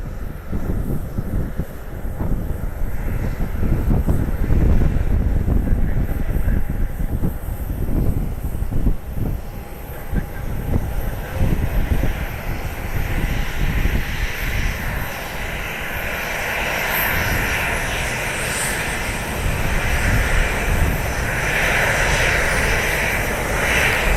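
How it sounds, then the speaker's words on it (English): A United Express airliner at Columbus airport makes a loud, steady jet engine roar that shifts in tone as it moves, with no voices over it. "United Express 3602 heading to Dulles."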